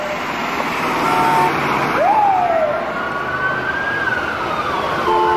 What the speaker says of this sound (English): We got the dump truck.